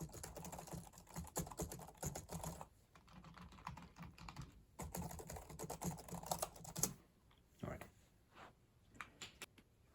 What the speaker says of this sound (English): Walmart brand keyboard is more like a damper, like a quieter keyboard